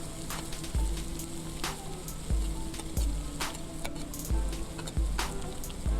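Chopped onion and ginger sauté in a pan for Kerala pepper chicken, giving a continuous close sizzle broken by several regular low scraping thumps of stirring, with no talk.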